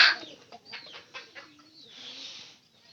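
A native chicken, tethered in a farmyard, gives a series of short clucks and soft calls at moderate distance, with a few quieter rustles between them.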